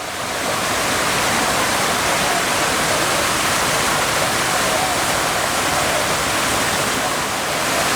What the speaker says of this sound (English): waterfall there in the distance at the end of the enclosure